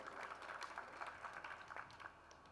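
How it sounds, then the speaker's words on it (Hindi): Audience clapping for a girl who answered a question at a spiritual discourse, a steady patter of many hands lasting a few seconds, moderately distant and fairly faint. "तालियां बजाइए इसके लिए।"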